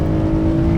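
A stock V8 car with an unmodified exhaust, running in second gear, gives a short, steady, loud engine drone close by.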